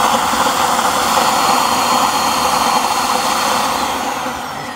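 A Dyson DC25 vacuum cleaner's motor runs with a steady, loud whirring drone that holds constant and tapers slightly near the end, with no talking.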